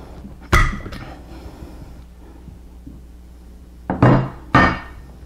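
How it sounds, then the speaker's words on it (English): An AK-47 rifle is taken apart by hand, sharp metallic clacks and thunks of parts striking and sliding, one hit early, then a quiet pause with faint handling, then two more loud clacks close together. "Let's go ahead and quickly disassemble this AK."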